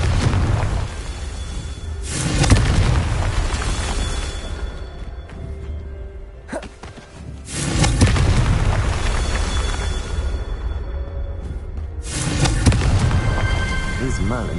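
Confringo blasting spells from the Hogwarts Legacy game go off as three heavy booming explosions, spaced several seconds apart, each with a rumbling, crackling tail fading between blasts.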